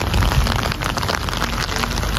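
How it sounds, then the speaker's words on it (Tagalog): Rain begins falling at the onset of a severe thunderstorm, a dense, steady hiss of drops on surfaces, loud and continuous with no voices. "Ngayon nag-start ng umulan."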